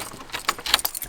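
A ring of keys jangles close by in a quick run of bright, irregular metallic clinks and rattles, with a few sharper chimes near the end.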